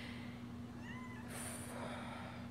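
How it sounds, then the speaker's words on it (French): A cat gives a faint, brief meow indoors at the middle of a quiet moment, over a low steady electrical hum and light room noise. No one speaks. "Puis la chatte arrête pas de miauler."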